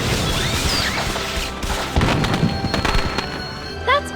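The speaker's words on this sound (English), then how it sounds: "Professor Slughorn asked me to set these fireworks off to announce his party" Fireworks going off in a Harry Potter and the Half-Blood Prince video game cutscene, dense crackling bursts and pops with whistling streaks over a busy background, ending in a rising whistle.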